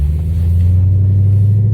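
A Mercedes E55 AMG W211 drives along with a loud, steady, deep engine drone and low cabin rumble, close and continuous, with no speech.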